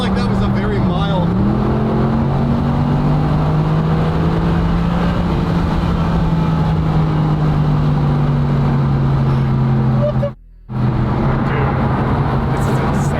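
Loud, sustained engine drone of a Mercedes SLS Black Series heard from inside while driving, a steady low note that briefly dips, then settles and holds with a smooth rising pull, broken by one short dropout near the end.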